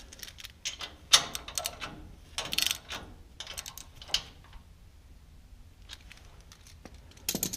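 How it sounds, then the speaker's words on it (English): An Ecotec engine mount bolt being tightened with a ratchet, giving quiet, irregular clicking and metallic clatter in short bursts, close by, with a louder click near the start and more at the end. "So now what I'm going to do is I'm actually going to tighten the bolt,"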